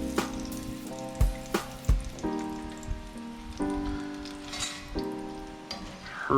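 Tortillas crisping in a hot pan give off a steady, rain-like sizzle and crackle, with several sharp pops and a musical tone running underneath.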